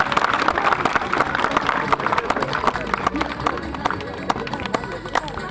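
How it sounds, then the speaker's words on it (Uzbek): A large crowd gathered at a football opening ceremony claps together in a dense, continuous burst of applause with a murmur of voices running through it, loud and close. "Faqat guldiroz qarsaklar sadosi ostida"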